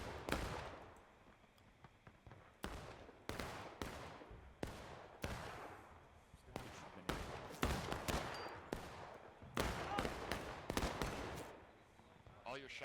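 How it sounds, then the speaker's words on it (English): Gunfire in a large online battle game, with repeated sharp shots striking a cannon wheel, arriving in uneven bursts and single cracks at moderate distance. "All your shots are bouncing off the wheel of that cannon, Buzz."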